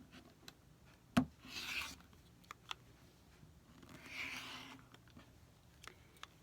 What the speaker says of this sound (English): So what I'm going to do is simply cut.